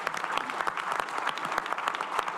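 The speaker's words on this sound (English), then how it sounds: "Let's give him a round of applause." Audience applause for basketball coach Frank Martin at an alumni award forum, steady dense clapping from a crowd filling the room at moderate loudness throughout.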